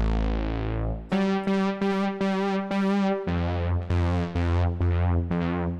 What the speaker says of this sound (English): you'll actually hear the aftertouch being applied right after I hit it